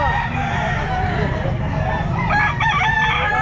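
Chickens at the Grotto pet market, with a rooster crowing and fowl clucking close by over steady crowd and market bustle; harmonic crowing calls stand out near the end.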